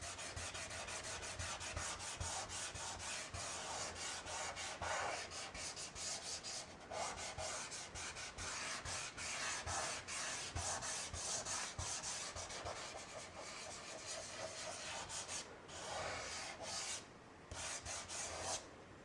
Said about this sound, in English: Take your finger and blend it out.